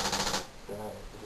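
A short rapid burst from a motion-activated X7 paintball machine gun fires in the woods, a quick rattling volley that cuts off abruptly into a quieter background where a voice briefly sounds.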